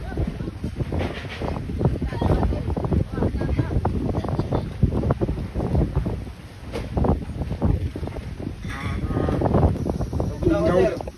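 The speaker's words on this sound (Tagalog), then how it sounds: "Oo, kusog kayo ng hangin." Strong wind roars and buffets the microphone continuously, with a low, rough rumble throughout.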